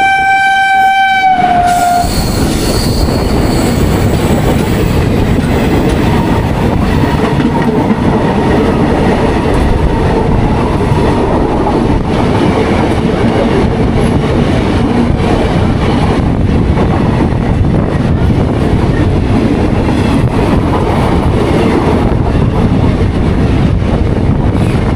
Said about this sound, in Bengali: ট্রেনটা কার্ভ নিয়েছে দেখুন, অসাধারণ লাগছে